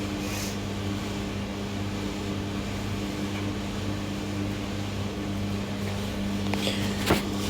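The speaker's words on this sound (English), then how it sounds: "That's the noise of my clothes dryer in the background." A clothes dryer runs in the background of a home kitchen, a steady low mechanical hum with a constant droning tone, faint and unbroken, with a small clatter near the end.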